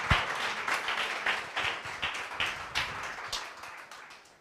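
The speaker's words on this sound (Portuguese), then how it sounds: "Você pode aplaudir o Senhor, querido?" Church congregation applauding during a service, a dense wash of many hands clapping steadily at moderate, roomy distance with no voices over it.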